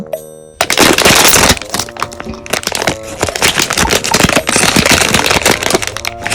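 A Pop Mart blind box is torn open with loud, close crackling and crinkling of plastic and foil wrap, sharp snaps and rustles running nearly continuously after a brief quiet start.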